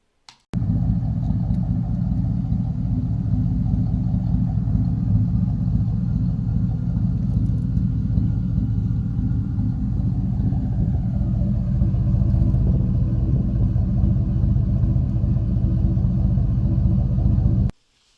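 A deep, steady exhaust rumble from a 4.7-liter V8 truck with aftermarket cams, loud and continuous, idling with a low throb and slight shifts in tone partway through.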